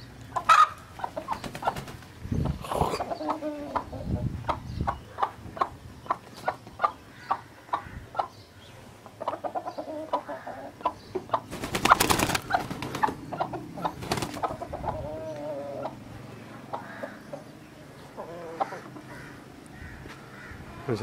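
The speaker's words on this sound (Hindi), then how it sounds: "अभी मुर्गी उड़ेगी जी ऊपर दीवार पर।" An Aseel hen in a village yard gives repeated short clucks and calls, close and fairly loud, with a burst of flapping in the middle and steady background noise throughout.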